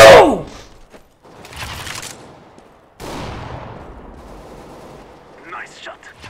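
Gunfire in Counter-Strike: Global Offensive, a sharp shot at the start followed by further bursts and a longer decaying blast, with a voice briefly heard.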